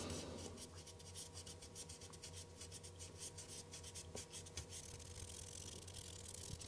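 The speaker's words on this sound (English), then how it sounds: "Needs a good scrubbing. Yeah, I think I'll use the fiberglass pen on this." Fiberglass pen scrubbing the blackened edge of a ZX Spectrum +2 128K plastic case, a soft continuous rasping rub with faint scratchy strokes, close and quiet over a steady low hum.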